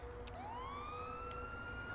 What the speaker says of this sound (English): so I'm gonna control the sirens